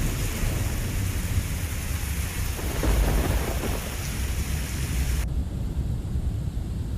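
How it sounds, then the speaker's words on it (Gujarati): Heavy rain pours down in a dense, loud, unbroken roar with deep rumbling underneath, recorded outdoors in a news report from a flooded farming region. "હજુ પણ જે રીતે વરસાદ પડી રહ્યો છે"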